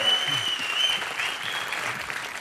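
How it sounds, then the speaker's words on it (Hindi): A studio audience at a comedy show applauds a guest, a dense, steady wash of clapping that stays loud throughout, with a faint voice near the start. "जोरदार तालियां हो जाए अनुष्का के लिए।"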